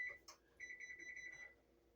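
An oven timer beeps in a quick, even run of about nine high electronic tones, preceded by a couple of brief clicks and followed by quiet, with no voices.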